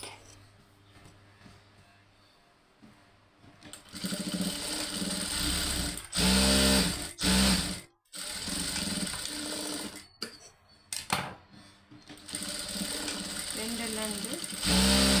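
Sewing machine stitching fabric, its needle whirring in several close, loud runs separated by short pauses, with quiet stretches before the first run.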